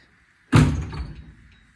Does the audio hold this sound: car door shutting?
yes